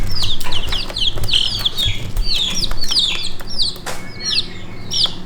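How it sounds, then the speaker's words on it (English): Yokohama bantam cross and mottled Wyandotte bantam chicks being fed, giving repeated high chirps and peeps throughout, with occasional rustling and soft thumps in the background. "First, let's feed the chicks."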